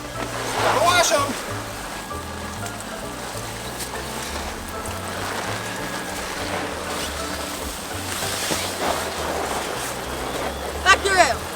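Water sprays steadily through a toy car wash with a small water jet while toys are pushed along, a continuous close hiss and splash with a few louder splashes near the end and brief voices in the background.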